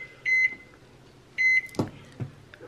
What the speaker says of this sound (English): While the microwave is going, I just got some wax paper here ready